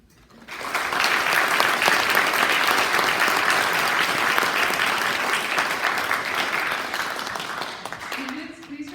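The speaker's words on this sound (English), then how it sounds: "Please join me in a round of applause to congratulate the newest members of the APDS chapter of the National Honor Society." An audience applauds at a National Honor Society induction ceremony, the clapping swelling quickly into a loud, sustained round that tapers off near the end as a soft tone begins.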